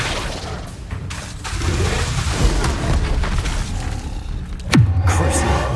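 Flipendo spell cast in Hogwarts Legacy: a swelling magical whoosh ending in a sharp, loud boom with a falling rumbling tail, over dense continuous game battle noise and rumble.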